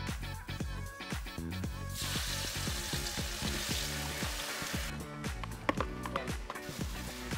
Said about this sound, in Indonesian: bumbu kelapa ini harus ditumis lebih dulu, biar lebih gurih rasanya